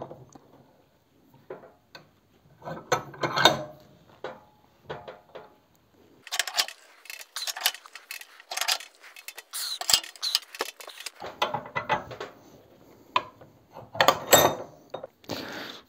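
Metallic clicks, ticks and clinks while a silentbloc bushing is pressed into a Renault 4 upper wishbone, intermittent bursts of scraping and creaking from the press and tools in a quiet workshop.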